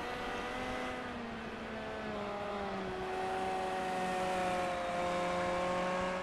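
A race car engine pushed hard on a qualifying lap with only a little fuel aboard: a steady, droning, harmonic-rich tone whose pitch rises gradually, heard at a moderate distance without speech.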